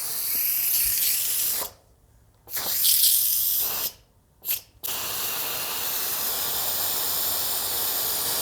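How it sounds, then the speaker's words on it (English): Instant Pot releasing pressure after cooking chicken soup: a loud, continuous hissing jet of steam that cuts out twice briefly, sputters back, then keeps venting steadily to the end. "steam is all vented"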